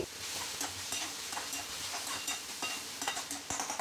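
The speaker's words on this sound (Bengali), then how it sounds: "মাশরুমটাকে দিয়ে গ্যাসটাকে হাই ফ্লেমে করে ভালো মতন এটাকে কষিয়ে নেবো" Mushrooms frying on high flame with oregano and chili flakes, a dense, loud sizzle punctuated by frequent clattering stirs and scrapes in a quick irregular rhythm, close to the microphone, with no speech.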